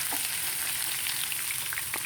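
Spicy fish frying in a pan with oil, a steady close sizzle with faint crackles and pops throughout, no talking.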